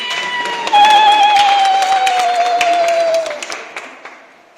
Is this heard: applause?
yes